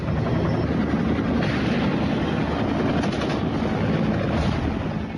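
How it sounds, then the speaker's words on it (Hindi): Steady low rotor-like rumble with broadband noise, sustained and fairly loud throughout, from helicopters circling overhead during an Indian-US joint military exercise in the desert. "आसमान में हेलीकॉप्टर चक्कर लगा रहे हैं।"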